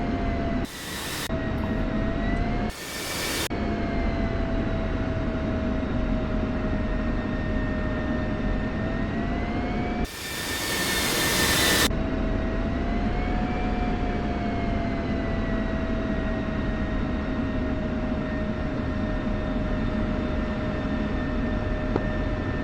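A military jet in the DCS flight simulator taxis with a steady engine whine and hum held throughout, broken by a few brief bursts of radio static.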